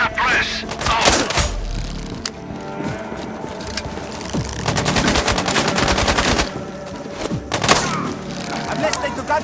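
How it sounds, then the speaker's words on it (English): Repeated bursts of gunfire in Sniper Ghost Warrior Contracts 2, loud automatic fire and sharp shots crackling in clusters with heavy thuds between, while voices talk over the combat. "I'm listening to gunshots here."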